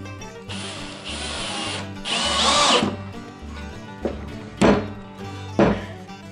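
A power drill drives screws into the back panel of a wooden birdhouse, its motor whirring in steady runs that rise and fall, with sharp thunks as each screw seats. The sound is loud, close and alone.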